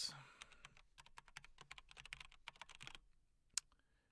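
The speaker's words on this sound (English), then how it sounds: "I really just have no idea what I'm typing in here" Fast, uneven typing on a computer keyboard during a programming session, with dense clusters of key clicks for about three seconds, then a pause and one sharp louder keystroke near the end.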